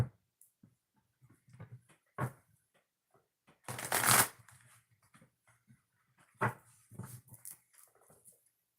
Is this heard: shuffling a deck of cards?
yes